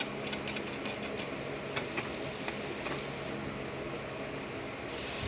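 Onion, garlic and chicken gizzards sautéing in the oil left over from frying tofu, giving a dense continuous sizzle and crackle close up, with a few faint stirring scrapes and no speech.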